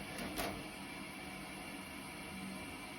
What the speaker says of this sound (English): You can hear it hissing.